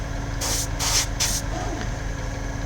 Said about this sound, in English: when I spray it on the kitchen roll, it actually looks quite thin